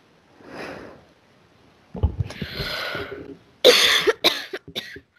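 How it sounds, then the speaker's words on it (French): A person coughs a few times in harsh, breathy bursts close by, with quiet gaps and throat noise in between. "Ça me fait tousser."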